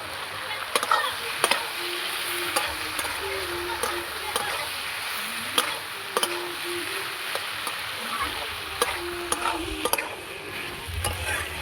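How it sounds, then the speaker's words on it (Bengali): Shrimp and ground spice paste sizzle in a pan for a Bengali shrimp curry with potato and snake gourd. A steady frying hiss runs underneath, broken by repeated sharp clicks and scrapes of a spatula stirring. "এখানে দিয়ে দেবো চিংড়ি মাছটা, আর আমি দিয়ে দেবো এই বাটা মশলাটা একসঙ্গে।"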